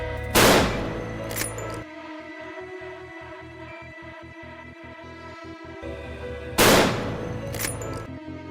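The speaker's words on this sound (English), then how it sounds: "Gunfire rang out again as the hunting dogs charged in." Two sharp, loud gunshot blasts ring out several seconds apart during a wild hog hunt, with a faint, rapid rattling pulse between them.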